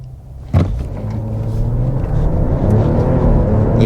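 2023 Jeep Grand Wagoneer L in sport mode pulling away from a stop at traffic lights, a steady, loud engine rumble that swells after a sharp onset and builds gradually as the big SUV accelerates, heard from inside the cabin.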